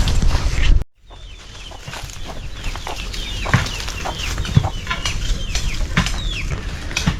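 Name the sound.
chickens clucking in a backyard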